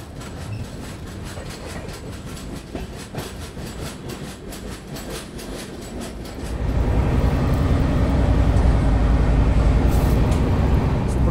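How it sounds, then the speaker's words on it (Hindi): The Konark Express rolls along at speed, heard from on board as a steady rhythmic clatter of wheels over rail joints that swells into a louder, deeper rumble partway through. "अभी हमारी ट्रेन अच्छी खासी रफ्तार में चल रही है"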